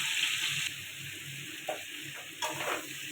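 Papaya and potato frying with turmeric and chili powder in a pan, a steady close sizzle with occasional scraping stirs of a spoon.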